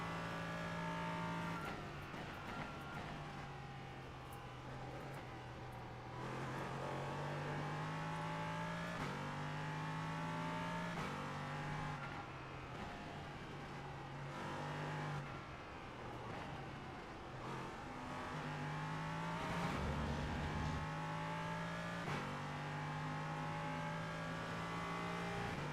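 An LMP3 race car in a racing video game runs practice laps at Zandvoort, its engine droning loudly and steadily, rising and falling through repeated gear shifts and revs for the whole stretch, with no talking.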